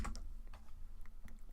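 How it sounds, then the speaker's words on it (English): Typing on a computer keyboard while looking up Renault cars online: quick, irregular close-up key clicks over a low steady background hum. "I can't type around my keyboard."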